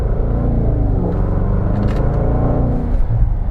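Range Rover Velar SVAutobiography in normal drive mode pulls away under throttle, a deep steady engine rumble heard from inside, loud and continuous with no talking.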